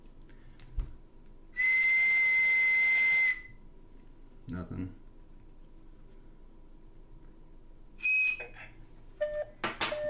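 A piercing, steady 2600 Hz high whistle tone from a Cap'n Crunch bosun whistle, held for about two seconds, then brief shorter whistle blips later, over quiet room background.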